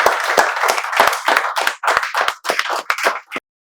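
A group claps in welcome, a dense burst of hand claps rising and falling in several close waves before stopping abruptly.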